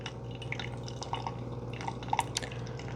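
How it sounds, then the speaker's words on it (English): Keurig K-Crema coffee maker brewing, a steady trickle of coffee dripping into a cup with small bubbling pops and splashes, close up and without talk. "So now it's brewing like a typical Keurig."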